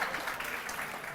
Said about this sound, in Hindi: ताली नहीं बजाओगे क्या?